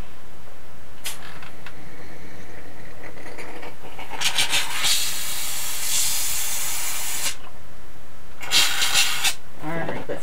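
A Wagner steamer hisses in three bursts while stripping a coating off a surface, with loud, bright jets of steam separated by quieter gaps, the last burst short.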